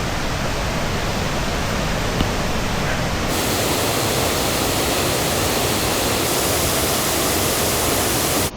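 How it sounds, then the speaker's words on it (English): The Sgwd y Pannwr waterfall in the Brecon Beacons, Wales, roars as a constant, broad rush of falling water, loud and unbroken throughout. "behind me is waterfall number 3"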